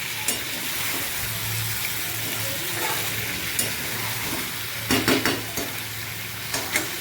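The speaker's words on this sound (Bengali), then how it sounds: "সব দিয়ে আস্তে আস্তে করে কষিয়ে নিচ্ছি, যাতে মশলাটা মাংসের ভেতরে ঢুকে যায়।" Chicken with potato and onion being stir-fried in masala in a wok gives a steady, close sizzle, broken by a few sharper scraping stirs toward the end, with no talking.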